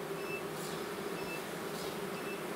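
Honeybees at an apiary make a continuous close, dense buzzing drone that stays steady throughout, with no voices.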